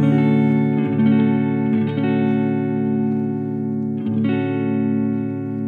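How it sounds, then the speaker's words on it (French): A clean electric guitar tone rings out through a T-Rex Mean Machine double distortion pedal, sustained chords held and changed a few times with soft pick attacks, played alone without talking. "ça c'est le son de la guitare à vide"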